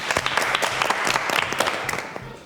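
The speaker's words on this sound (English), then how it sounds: "let's give a round of applause" Audience applause at a poetry slam event, a dense wash of many hands clapping steadily for a couple of seconds and tapering slightly at the end, with faint voices mixed in.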